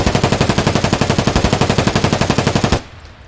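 Automatic rifle fire at a shooting range in the Escape from Tarkov video game, one loud, fast, evenly spaced burst of about thirty shots that stops abruptly, leaving a faint tail.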